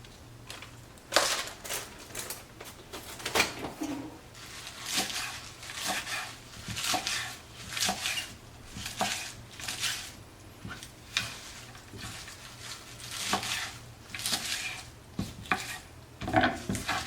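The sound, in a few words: chopping baby spinach with a knife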